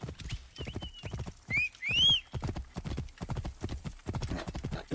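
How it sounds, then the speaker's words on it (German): Rapid hoofbeats of a horse galloping in the video game Assassin's Creed Origins pound steadily throughout, with a brief high whinny-like call in the middle and no speech. "Reite mich mal dorthin."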